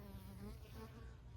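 A honeybee buzzing close by, a steady low droning hum that persists through the short moment, quiet overall and without speech.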